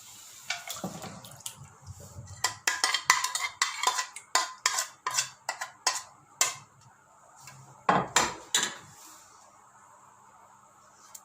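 Tamarind tipped into a hot wok on a lit flame and stirred, giving a run of sharp clinking scrapes and knocks at an uneven rhythm, close and fairly loud, with a light watery sizzle underneath.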